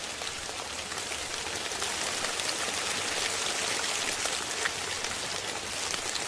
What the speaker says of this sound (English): That's what actual rain does, though.